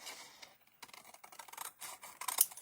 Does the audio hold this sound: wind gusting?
no